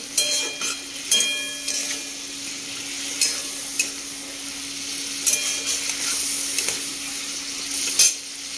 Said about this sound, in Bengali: দেখতে পাচ্ছ কড়াইতে চাল দিয়ে দিয়েছি